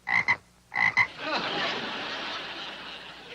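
A frog croaks twice in quick pairs, loud and close, with deep throaty rasps, followed by a burst of studio audience laughter and murmuring in a comedy wedding scene.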